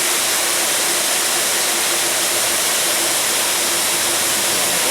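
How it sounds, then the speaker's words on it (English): A waterfall beneath the Fallingwater house produces a constant, even rush of water noise, steady and moderately loud throughout, with no voices or other sounds breaking through. "You can't see the waterfall unless you look down while you're in the house."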